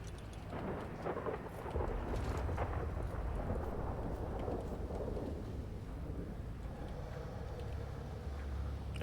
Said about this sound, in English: Sounds like there's another storm outside.